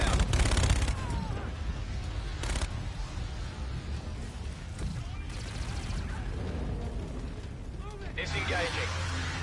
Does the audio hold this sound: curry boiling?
no